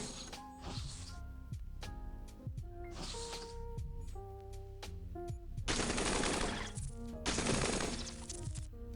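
Rapid bursts of enemy robot gunfire in the video game Cogmind, with two long, loud, dense volleys near the end, mixed with game tones and mechanical effects.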